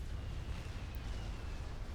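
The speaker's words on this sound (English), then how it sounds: "Another Billy Nuke explosion." A nuclear explosion in the real-time strategy game Supreme Commander, during a 5v5 match, rumbles as a dense, sustained low roar with crackling noise, steady and loud for two seconds without speech.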